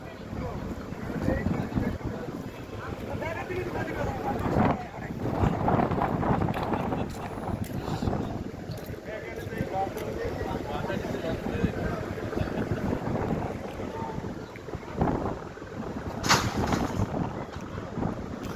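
Strong Kalbaishakhi storm wind roars steadily over a river boat, with dense, rushing gusts throughout. Voices can be heard faintly under the noise.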